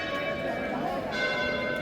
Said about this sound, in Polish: Na pewno Dzwony jednak biją.